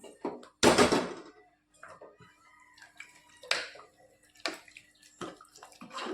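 A cooking pot for sambar is rinsed and water poured in, giving splashes and sloshing bursts with metallic clinks and knocks, close by and intermittent over a quiet kitchen background.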